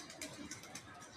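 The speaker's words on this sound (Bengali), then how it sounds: "আরে ওগুলো পায়রা, পায়রা," Pigeons coo faintly in the background, a soft, low, brief burble with no voices over it.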